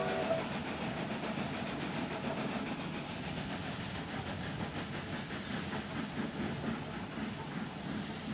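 Class 121 railcar engine running on a trip from Tallahassee to Pensacola, a steady loud drone with hiss and rumble, continuous and close throughout with no talk.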